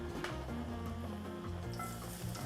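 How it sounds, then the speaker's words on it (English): Fresh garlic sizzles steadily in heated oil in a cast iron skillet, a continuous soft frying hiss with no one speaking. "once your oil's all heated up, you put some garlic"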